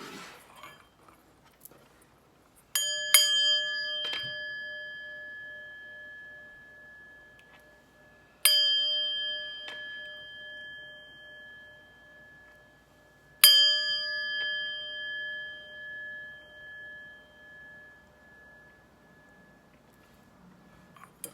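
A metal chime is struck three times at spaced intervals in a quiet room, each strike ringing out clearly and decaying slowly with a bright, sustained tone.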